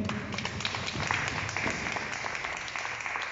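An audience claps to welcome the actor Cosimo Alberti, giving dense, steady applause from many hands close by that holds at an even level throughout.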